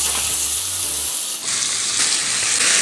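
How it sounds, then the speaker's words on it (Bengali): Pomfret fish frying in oil on a tawa, giving a loud, steady sizzle and hiss throughout, with a brief low hum near the start. "রেখে আস্তে আস্তে মাছটাকে ভেজে নেবে"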